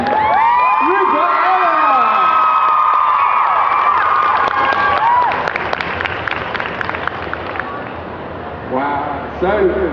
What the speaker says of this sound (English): Give a massive cheer to two of your favourite knights. Please give it up for Adetomiwa and Rupert.